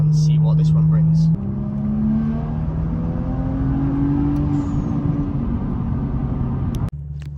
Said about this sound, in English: we'll do a pull now. We'll reach into 3rd and see what this one brings.